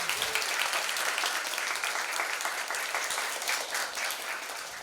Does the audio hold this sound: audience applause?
yes